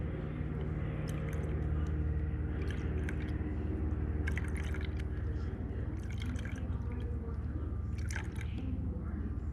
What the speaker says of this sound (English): I just do this just to rinse it out real thoroughly.